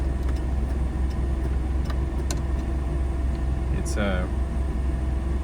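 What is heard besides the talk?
1979 Toyota Hilux pickup engine running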